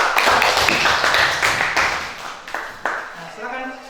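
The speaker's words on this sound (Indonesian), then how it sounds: "Sekali lagi kasih aplaus buat kelompok." Applause for a student group in a classroom, a burst of clapping from several people that fades out after a few seconds, with voices talking over it.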